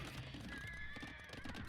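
A war horse in an Age of Empires-style strategy game lets out a short whinny as it goes down, faint and brief amid battle noise and clip-clop of hooves.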